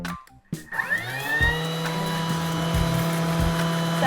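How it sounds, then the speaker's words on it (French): A Thermomix TM5 runs at speed 10, blitzing granulated sugar into icing sugar: after a short clatter the motor rises into a loud, steady whine with a low hum and faint rhythmic pulses, continuing alone without talk. "on fait du sucre glace en mettant la vitesse 10 pendant 10 secondes"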